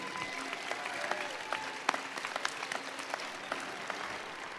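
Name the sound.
graduation audience applauding the faculty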